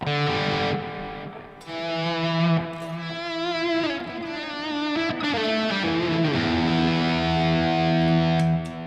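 Sustained, distorted electric guitar notes ring out with a clear delay effect, the repeats trailing behind each phrase and blending into a wet, echoing wash.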